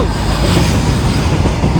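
A toy train chugs along, a loud, close, steady rattling rumble with a continuous clattering texture over the brief moment.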